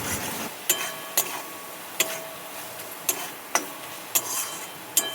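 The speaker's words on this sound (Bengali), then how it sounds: "2 মিনিট মতন ভালো করে কষিয়ে নেবো।" Prawns stir-fried in a spiced masala, with sharp metal spatula clinks against the pan at irregular intervals over a steady low sizzle, close and clear, no talk.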